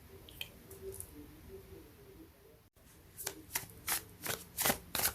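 Tarot cards being shuffled and drawn by hand, with soft riffling early on, then a rapid series of sharp, close card snaps and slaps building toward the end, no talk.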